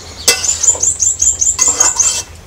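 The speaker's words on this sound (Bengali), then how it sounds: "এখন আবারও নেড়ে চেড়ে মিষ্টি কুমড়ার সাথে মশলা কষার সাথে সুন্দরভাবে পাঙ্গাস মাছের টুকরাগুলো মিক্সড করে নিচ্ছি" Pangas fish pieces being stirred with sweet pumpkin and spices in a pot, giving a clattering of utensil against cookware and a high metallic scraping in steady strokes, close and fairly loud, with no talk.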